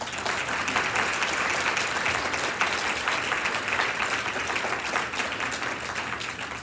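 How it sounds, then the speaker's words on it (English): Sustained applause from a keynote audience at a craniofacial retreat, many hands clapping in an even, continuous roar for several seconds. "And I think one more round of applause."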